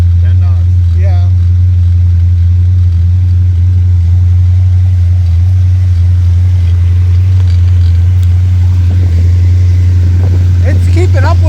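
Fast boat engine running at about 10 knots, a steady low drone holding throughout, with wind buffeting and people talking over it.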